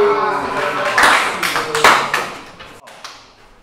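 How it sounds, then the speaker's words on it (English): A class claps for a student's presentation in a university setting, a burst of close, uneven hand claps with sharp individual slaps that swells and then tapers off abruptly near the end. "Give her a round of applause, please."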